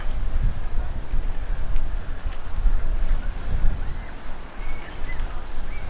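Gusty wind buffets and rumbles across the microphone, rising and falling in uneven surges, with faint outdoor sounds beneath.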